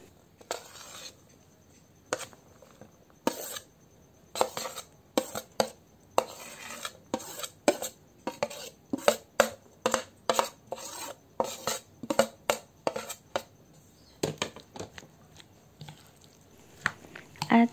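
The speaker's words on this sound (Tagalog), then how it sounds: "At haluin natin yan ng mabuti." A utensil stirs a batter of bamboo shoots with sliced carrots, onion and garlic in a bowl for ukoy, with repeated close scraping and clinking strokes in an irregular rhythm and brief pauses between bursts.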